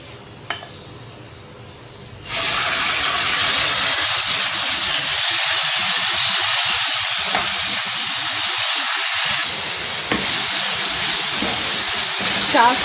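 Oil heating in a pan over a medium flame for pizza cone filling, starting from a quiet room and then breaking into a loud, steady, close sizzling hiss that continues with slight surges and a few faint clinks.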